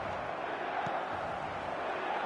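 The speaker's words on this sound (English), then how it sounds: "The crowd are calling for this to be put to bed." Football stadium crowd calling out as one broad, sustained roar, steady and dense throughout with no single voice standing out.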